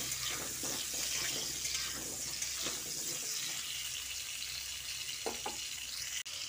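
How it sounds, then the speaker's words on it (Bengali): Cubed potatoes hiss and crackle in hot oil as they are stirred, a dense, fairly quiet steady frying sound with occasional soft scrapes of the spatula and no speech. "আলুটা তেলে দেওয়ার পর প্রথমে আমি একটু নেড়ে চেড়ে নিচ্ছি।"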